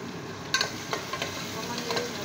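Butter sizzles steadily in a hot pan for butter chicken, with a few light stirring scrapes over the continuous crackle and no one talking.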